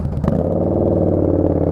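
A Yamaha Bolt custom motorcycle with a DIY tank, ridden on a cool day in Florida, gives a steady, close engine rumble with one short clatter near the start.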